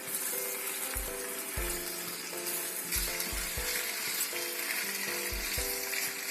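Vegetables for charquicán, including potato and squash, fry with a steady sizzle in a pot while a spoon stirs them, giving repeated soft knocks and scrapes against the pot at close range.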